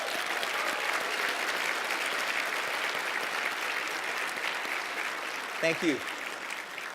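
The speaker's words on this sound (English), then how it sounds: "Let's show them just how excited we are to be here this morning by welcoming them with a thunderous applause." Ballroom audience applause at the Port of Long Beach State of the Port event, broad and sustained clapping filling the hall, easing slightly near the end as a voice briefly speaks over it.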